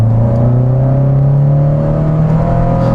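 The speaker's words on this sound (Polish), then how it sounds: "Drugi bieg, 2300 obrotów na minutę, gaz podłogę." A Volvo 480 engine revs under full throttle in second gear from 2300 rpm, a loud steady drone rising slowly in pitch, heard from inside the vehicle.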